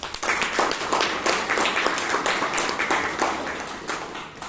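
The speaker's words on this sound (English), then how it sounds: "Please give them a round of applause." Audience applause at a Toastmasters meeting in Bangalore, a steady, dense round of clapping from a roomful of people that holds at an even level throughout.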